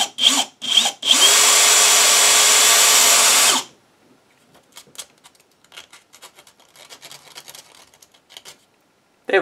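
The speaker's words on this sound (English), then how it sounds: "so we need to drill a hole here." A power drill whirs loudly and steadily for a couple of seconds after a few short bursts, drilling a hole in an Ekko recorder, then stops, leaving faint clicks and handling noises.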